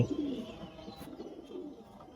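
A male pigeon coos softly at close range, a low, brief throaty call at the start fading into quiet rustling.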